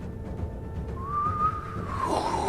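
A voice imitates the rising, then falling whistle of an incoming artillery shell: a single sustained tone that climbs and slides down over about two seconds against a low background rumble, with no talking.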